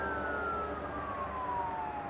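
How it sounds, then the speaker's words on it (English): Police car siren wailing on a passing vehicle, a single steady tone gliding slowly downward as it moves away, heard over a constant road and engine hum with no voices. "passing police cars speeding in the opposite direction with their sirens wailing"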